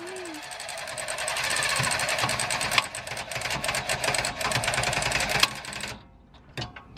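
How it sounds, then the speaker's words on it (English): An electric ratchet drives a bolt home during a rear Eibach Pro-Lift spring install on a Rav4 Prime, whirring in a loud, rapid buzz for about six seconds before stopping, followed by a few brief clicks. "I'm using this electric ratchet to drive it home"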